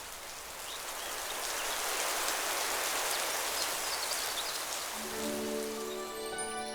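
Steady rain pours in a cartoon fairy tale, a dense even patter of drops on surfaces at moderate level. Near the end a bright sustained musical tone rises in over the rain, with no talking.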